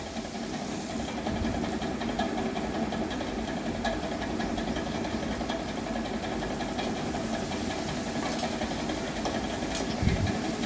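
Potato, drumstick and other vegetables fry in oil for an egg curry, giving a continuous, even hiss that holds at a steady level throughout with no breaks.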